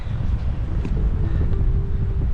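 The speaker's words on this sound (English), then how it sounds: "Look at the wind on the lake." Steady wind blowing over a lake on a chilly late-fall day in the backcountry, a constant low rumbling roar buffeting the microphone, loud and close without any talk.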